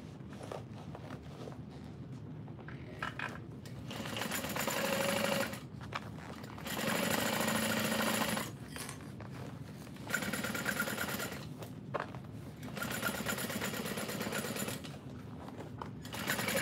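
A sewing machine stitches a bowler bag in several close bursts of fast, even whirring, each separated by short pauses while the work is moved, with no talking.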